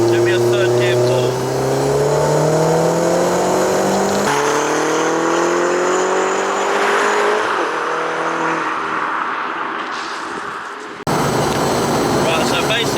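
A turbocharged VW Polo 6N2 pulls hard in third gear, its engine note climbing steadily and loudly before a brief lift and resumption, with voices talking over the roar.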